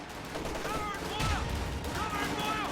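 Machine gun fire in the Company of Heroes video game: steady distant rattling bursts in a busy battle mix, with a voice speaking over it.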